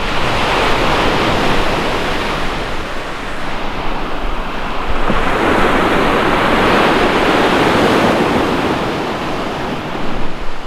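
Waves wash steadily onto the Lake Superior shore beside a black sand beach of copper mine tailings, a continuous loud surf roar with wind buffeting the microphone and no voices.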